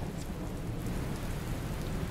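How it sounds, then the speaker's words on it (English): Heavy rain pours steadily with a low rumble of thunder beneath it, a dense continuous wash of sound with no talk. "It's not a hurricane. It's heavy rain."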